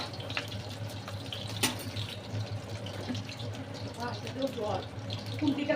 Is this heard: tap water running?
yes